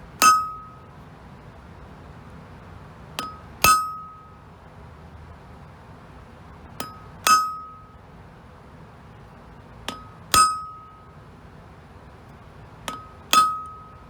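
Hammer blows driving a punch into an orange-hot steel wrench, shaping a cap lifter at the forge: sharp ringing metallic strikes in small clusters of two or three, repeated about every three seconds over a low background hum.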